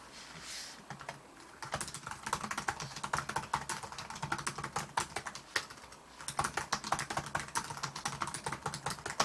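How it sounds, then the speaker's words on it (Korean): Typing on the keyboard of an LG Gram 13-inch laptop: rapid, irregular plastic key clicks in bursts, close and fairly quiet, with brief pauses and no talking. "이제 올데이 그램 넘어오면서 키보드 타이핑감이 상당히 좋아졌습니다"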